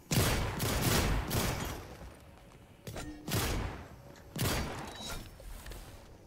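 Drum shotgun blasts in the video game Fortnite, several loud booming shots spaced a second or so apart with sharp attacks and decaying tails, heard close and without talk.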